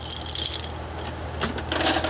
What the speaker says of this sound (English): Here's a couple bags of them. These are called test keys.